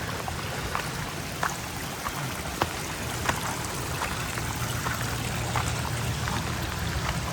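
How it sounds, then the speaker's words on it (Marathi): A stream of water runs beside a forest hiking trail on the way to the Kondane caves near Karjat, a steady rushing flow with occasional splashes and drips, heard alone at moderate closeness. "इथे मधूनच असा पाणी येतोय मस्तपैकी. आणि पाण्याचा आवाज खूपच भारी."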